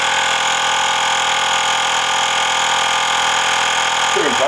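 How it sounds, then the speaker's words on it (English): A Fanttik portable air pump drones loudly and steadily while inflating a motorcycle tire, a constant buzzing motor whine with no breaks, close up. "It's actually a bit noisier than what I expected, but it's an air pump."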